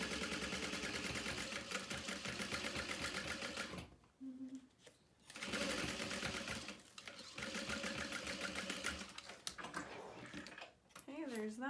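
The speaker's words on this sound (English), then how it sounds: "Eighth of an inch top stitch, basting stitch, I should say." A sewing machine runs a basting stitch, an eighth-inch topstitch on a makeup bag, in steady rapid bursts with two short pauses, close and loud, with brief talk in the gaps.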